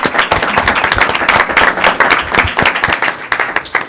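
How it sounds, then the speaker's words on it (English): Audience applause for a panel of speakers at a legal conference, dense and steady clapping from a room full of people, loud and close throughout with no voices over it. "let's have a round of applause for our panelists"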